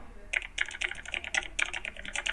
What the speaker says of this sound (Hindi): वूश, वूश का साउंड इफेक्ट, टाइपिंग का